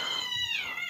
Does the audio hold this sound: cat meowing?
yes